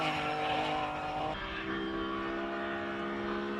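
A Porsche 911 GT3 RS from the 991 range screams up a hillclimb course at a King of the Mountain event, its high-revving engine loud and close, then shifting and receding slightly as it passes.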